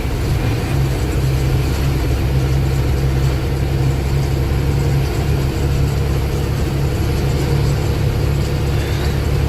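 A diesel vehicle that has run low on fuel rolls slowly along the road, its steady low engine drone and road rumble loud and close for the whole stretch, with no talking.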